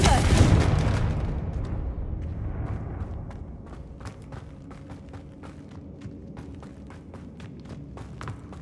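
A Confringo fire spell in Hogwarts Legacy erupts in a heavy boom that rolls off slowly, followed by a long tail of sparse crackles and light footsteps, with no speech.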